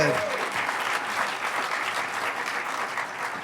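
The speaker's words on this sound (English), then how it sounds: "A round of applause for all the presenters who came in under time." Audience at a lightning-talks session giving presenters a round of applause, a dense, even crowd clapping that holds steady throughout, with a brief voice at the very start.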